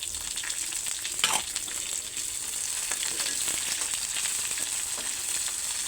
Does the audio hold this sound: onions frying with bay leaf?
yes